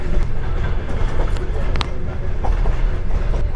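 Steady rumble and rattle of a moving train in Georgia from inside a carriage, with faint clicks over the rails and a voice talking underneath.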